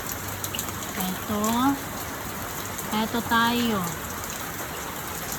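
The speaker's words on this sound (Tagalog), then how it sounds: "So nagtuloy-tuloy yung ulan." Steady rain patters on surfaces through a wet morning, a constant even hiss with a voice speaking briefly over it.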